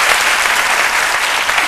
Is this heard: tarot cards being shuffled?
no